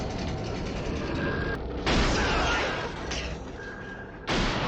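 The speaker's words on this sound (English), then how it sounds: "These bolts are like gunshots." Submarine bolts bursting under deep-water pressure in the 1981 film Das Boot: loud, sharp cracks and metallic slams over a rumbling, creaking hull, with sudden bursts at intervals.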